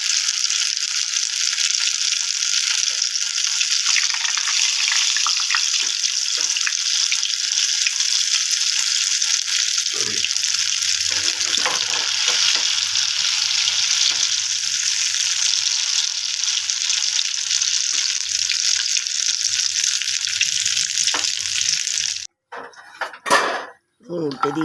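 Poha chila fries in a pan with a constant bright, hissing sizzle, close and steady, and a few clinks of a utensil near the end.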